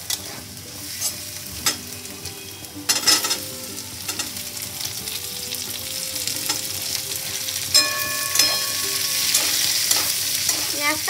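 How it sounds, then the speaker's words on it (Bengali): Onions frying in a pan for American chopsuey, a steady close sizzle broken by repeated scraping stirs of a spatula, with no one talking. "এবার আমি পেঁয়াজ দিয়ে দেবো"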